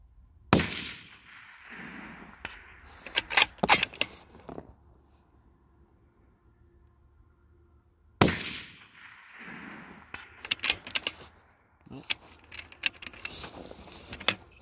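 Cadex CDXR7 Sheepdog PRS rifle firing two sharp, loud reports several seconds apart outdoors, each followed by a run of mechanical clicks and clatter.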